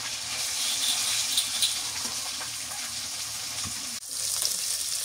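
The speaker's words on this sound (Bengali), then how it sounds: "মাছগুলো ভাজা হয়ে গেছে, নামাই আনি।" Pieces of rohu fish frying in hot oil in a home kitchen pan, giving a steady, close, dense sizzle with crackling spatter throughout and a brief dip near the end.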